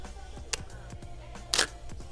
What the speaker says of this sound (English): The movement of that mirror clacking up and the first curtain getting out of the way can introduce a bit of shake